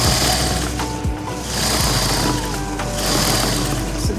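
A sewing machine stitches a joggers waistband with a continuous, fast mechanical whir and rattle. The motor hum holds steady with slight dips, loud and close.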